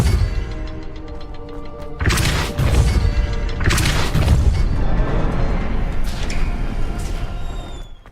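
A Depulso blasting spell in the game Hogwarts Legacy, two loud crashing impacts about two seconds apart with rumbling debris, no talking.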